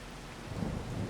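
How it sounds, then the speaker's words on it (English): Rain falls on a farm during the harvest, a soft steady patter with a low rumble swelling slightly midway through this brief moment. "Oh no, we've got rain."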